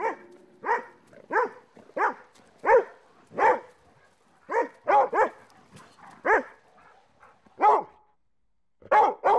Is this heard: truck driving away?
no